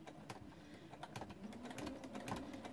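A sewing machine stitches fabric circles for an applique, running in a quiet steady hum with a few short pauses and light clicks, fairly faint and without speech.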